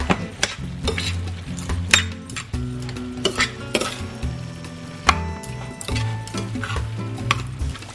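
Ground pork giniling with raisins is stirred in a pan, close metallic scraping and clinking of a spoon against the pan in an uneven rhythm over a faint sizzle, with no talking.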